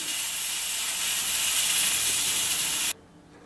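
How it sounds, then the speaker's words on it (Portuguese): A pressure cooker holding pigeon peas vents steam in a loud, steady, close hiss for about three seconds, then cuts off abruptly into quiet room noise. "vou desligar o fogo e vou deixar ir soltando a pressão para acabar de cozinhar"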